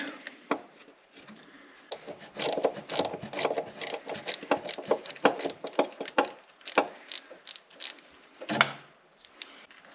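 Tools work on a BMW X-Drive transfer case actuator in close-up, giving a busy run of metallic clicks, ratcheting and small clattering knocks, uneven in rhythm and moderately loud, with no talking.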